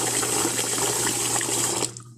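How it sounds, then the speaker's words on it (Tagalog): Rice being rinsed in water at a sink, a steady close splashing and running-water wash that carries on without talk, then cuts off suddenly near the end. "Hugasan po natin ang ating rice."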